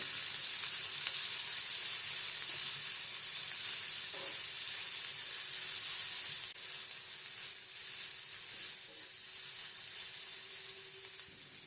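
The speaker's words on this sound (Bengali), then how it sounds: "এরপর এর মধ্যে দিয়ে দিচ্ছি পেঁয়াজ কুচি, দিয়ে দিচ্ছি গাজর কুচি, আর দিয়ে দিচ্ছি কাঁচা লঙ্কা কুচি।" Chopped onion, carrot and green chilli sizzle in a pan for a semolina vermicelli upma, a continuous bright hiss of frying with faint stirring, steady and close with no voices.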